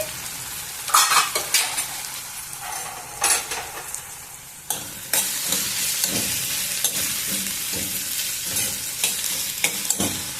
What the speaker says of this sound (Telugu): అందుకోసమే మధ్యలో కలుపుతూ ఉంటే అడుగంటదు